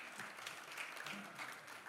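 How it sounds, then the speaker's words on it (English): Applause from an audience at a lecture on Nigerian elections, faint and distant, a brief steady patter of clapping. "let's clap for Nigeria"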